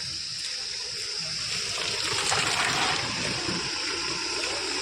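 Natural mountain spring water streaming steadily from a roadside source in the hills, a continuous close rushing and splashing without pause and no talking.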